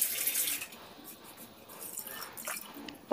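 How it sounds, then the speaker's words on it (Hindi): Water pours and splashes into a pot of soaked rice, peas and potatoes in masala, a quiet, close stream of uneven gurgling bursts. "पानी डाल दिया है"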